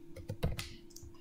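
Keys tap on a computer keyboard as a short project name is typed, several quick, quiet, close clicks in an uneven rhythm.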